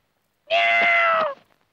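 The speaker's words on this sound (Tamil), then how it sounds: "பூனை" A cat gives a single clear meow, close and loud, lasting under a second with a slight falling tail, surrounded by silence.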